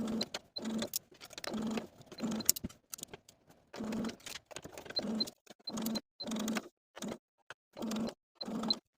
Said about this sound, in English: sew in place with a 1/2 inch seam allowance